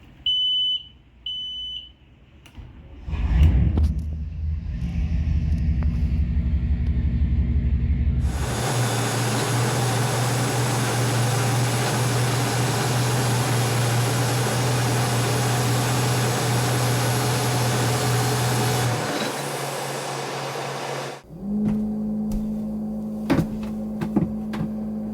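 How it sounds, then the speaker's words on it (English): A boat's bilge blower on a Mercruiser 454 L29 inboard switches on with a clunk and runs as a loud, steady whir for about ten seconds. Then it cuts out, and a lower hum carries on after. "so let's turn on that bilge blower"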